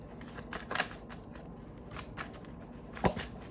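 Tarot cards being shuffled by hand in a quiet room, with a few soft riffling bursts and one sharp snap of cards near the end, faint and isolated with no talking.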